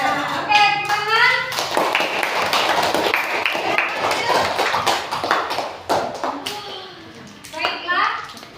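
A classroom group of children claps in a burst of applause lasting a few seconds, with children's voices chattering before and after it.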